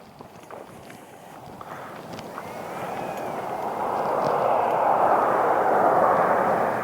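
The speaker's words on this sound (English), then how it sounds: "somebody's flying a drone around here" A drone buzzes overhead above a woodland walking trail, its broad hum swelling steadily louder over the crunch of footsteps.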